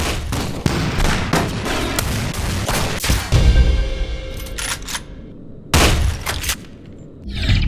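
Shotgun blasts in the first-person shooter F.E.A.R. 2: Project Origin, a series of loud close booms in quick succession, followed by a quieter pause and then another heavy shot.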